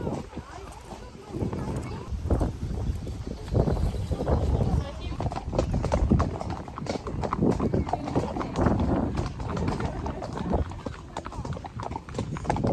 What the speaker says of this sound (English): the best way to tour the farmhouse is on horseback